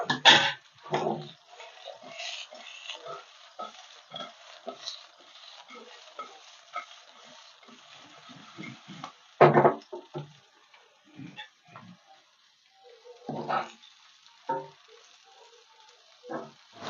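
Fried fish pieces are stirred through a garlic chili masala in a pan, giving scattered scraping and clattering strokes with a few louder knocks, close and clear over a faint sizzle.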